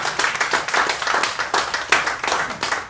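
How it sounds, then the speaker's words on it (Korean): Church congregation clapping together in worship, a dense, steady burst of many hands applauding close by for about three seconds with no talk. "우리 하나님께 영광의 박수 돌리겠습니다."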